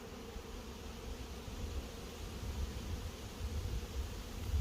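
A swarm of honey bees makes a low, steady, faint buzz with an outdoor rustling hiss behind it, the hum swelling slightly toward the end, with no one talking.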